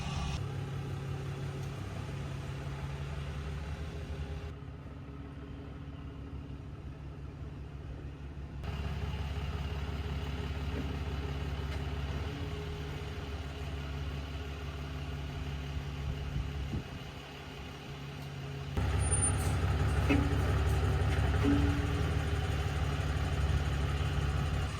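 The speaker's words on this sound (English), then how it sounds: "now we can get the camper and the truck into position" A pickup truck's engine idles steadily at close range while a truck camper is maneuvered into position at a campsite, a constant low rumble with slight shifts in level and no voices.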